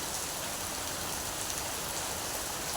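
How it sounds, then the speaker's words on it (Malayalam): Heavy rain pours steadily on surfaces, a dense, unbroken hiss of drops filling the whole stretch, close and loud with no voices. "അതുപോലെ നല്ല മഴയാട്ടോ"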